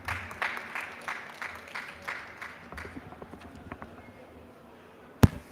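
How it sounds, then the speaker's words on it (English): Audience applause at an IUCN conference session during UNCCD COP16: scattered clapping from a seated crowd that thins and fades over several seconds, ending with a single loud knock. "Let's give him a round of applause."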